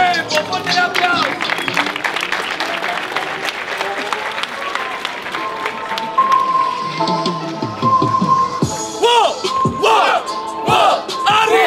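A live audience at a 2024 Spanish-language rap battle tournament semifinal applauds and cheers steadily, dense clapping with shouts and whoops layered throughout at close range.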